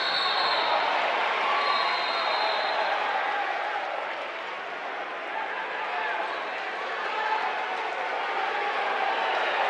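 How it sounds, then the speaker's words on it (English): Crowd noise fills a gym during a high school 5A state playoff basketball game between New Oxford and York Suburban, a steady, moderately faint murmur of chatter and cheering with a commentator talking over it. "The crowd noise is certainly here, tonight."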